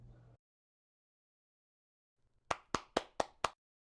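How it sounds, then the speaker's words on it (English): Five crisp, evenly spaced avatar claps ring out at a virtual reality club meetup, loud and clean against near silence, preceded by a brief faint murmur. "How do I make this avatar clap?"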